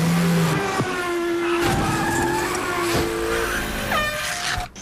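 Small Coca-Cola RC cars race in a NASCAR commercial, motors whining and buzzing loudly up close with sharp tire skids and passes over the last lap, ending abruptly.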